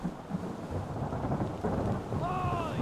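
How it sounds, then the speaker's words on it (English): Thunderstorm with steady rain in the video game Return of the Obra Dinn, a continuous loud wash of rain and rumbling thunder filling the scene throughout. "Storm's coming!"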